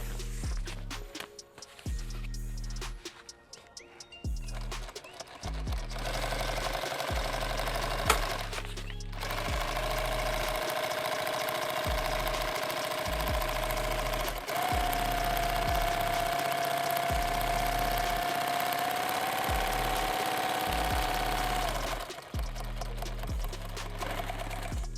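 A sewing machine runs a long steady top stitch along a helmet bag, a continuous mechanical whir after a few short stop-start bursts, with the motor pitch rising slightly midway before it cuts off near the end.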